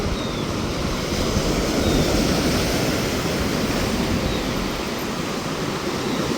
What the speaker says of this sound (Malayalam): എല്ലായിടത്തുനിന്നും തിരയടിച്ച് വരുന്നുണ്ടോ